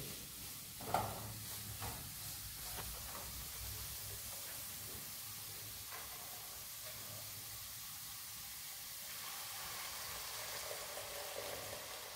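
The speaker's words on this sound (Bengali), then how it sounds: "এবার এখানে দুধ দেবো, 1 কাপ মতো" Grated carrots in a pan have milk poured over them and are stirred, giving a quiet, even sizzling hiss with a single soft knock near the beginning and faint scraping throughout.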